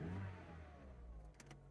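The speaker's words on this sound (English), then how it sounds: "Seems to be idling okay." A used car with 94,000 miles that has been sitting a while and shows an engine management light runs at idle, a steady low mechanical rumble close by with a few faint clicks toward the end.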